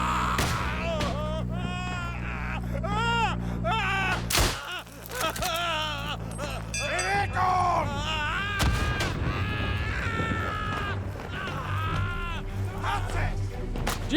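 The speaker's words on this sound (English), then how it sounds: "Some of the death cries from your teammates when they get their legs blown off is chilling, to say the least" Teammates in the World War I shooter Isonzo wail and scream in agony after losing their legs to explosions, drawn-out anguished cries overlapping loudly over battle rumble, with a sudden blast partway through.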